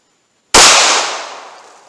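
A single sharp gunshot from a .380 Auto pocket pistol firing Remington UMC full metal jacket ammunition, loud and close, with a sudden crack followed by a decaying outdoor echo.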